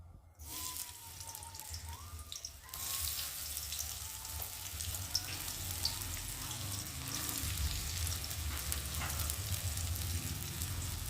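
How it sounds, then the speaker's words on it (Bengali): Onions fry in mustard oil for a biryani, a hissing sizzle that swells after a quieter start and holds steady, close and without speech. "এখন পেঁয়াজগুলো দিয়ে ভেজে নেব"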